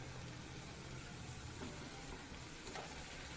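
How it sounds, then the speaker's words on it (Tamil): Radish pieces sautéed and stirred into a masala for a radish gravy, giving a steady, soft frying sizzle with faint stirring scrapes throughout, no voices. "அதையும் அந்த மசாலாவோட மிக்ஸ் ஆகும்படியாக நல்லா வதக்கிக்கோங்க"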